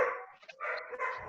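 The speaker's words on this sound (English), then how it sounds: "And there's my dog welcoming my family home." A pet dog barks inside a family home as its owners arrive, a few close, sharp yips and barks in quick succession with no talking.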